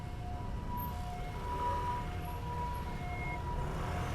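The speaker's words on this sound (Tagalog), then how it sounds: "Ayan na agad yung ambulansya." An ambulance siren wails steadily amid rumbling road traffic, its tones rising and falling in the distance rather than close by.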